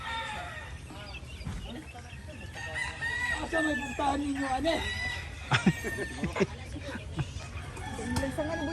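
Chickens clucking and a rooster crowing nearby, with people talking intermittently over the birds.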